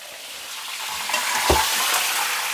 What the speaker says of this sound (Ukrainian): сковорідочка, звісно, шкварчить по красоті